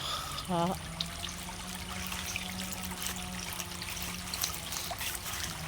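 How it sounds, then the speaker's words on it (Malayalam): A small backyard stream swollen by monsoon rain trickles and flows continuously, a soft, steady watery wash at moderate distance, with a short voice near the start. "കർക്കിടക മഴയിൽ തുളിച്ച് ഹർഷകുതൂഹലം പൂണ്ട് തുളിച്ചൊഴുകുന്ന കൈത്തോട്"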